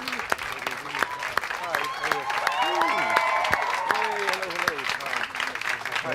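A studio audience applauds and cheers to welcome Sir Kenneth Branagh, Richard Madden and Holliday Grainger at a Cinderella interview. Dense clapping swells and lasts for several seconds, with excited voices and whoops mixed in.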